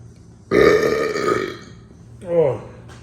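A man lets out a long, loud, close burp, followed after a brief pause by a second shorter, croaking belch.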